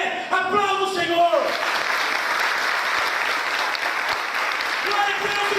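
A church congregation applauds at a worship service, dense sustained clapping filling the room from start to end, with a voice briefly audible over it at the start.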